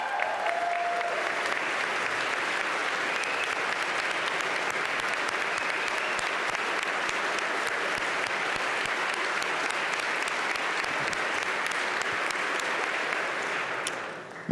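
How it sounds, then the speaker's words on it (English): Sustained, dense applause from Pennsylvania state legislators and senators in the chamber during a governor's budget address, loud and steady for the whole stretch before tapering at the end. "some members of the Senate who rose to clap for Ms. Holmes Davis"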